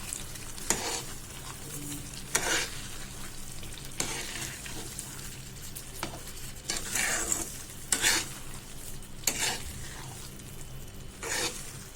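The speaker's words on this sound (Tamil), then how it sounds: "கொஞ்சம் கொஞ்சமாக சேர்த்து கலந்து விட்டுட்டே இருங்க" Sago kesari being stirred in a pan as sugar is added, a soft sizzle under repeated scraping strokes of a spoon at a steady rhythm, close and fairly quiet, no voices.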